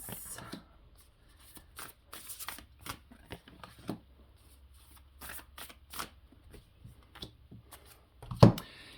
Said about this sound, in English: Let's pull a few more of these cards.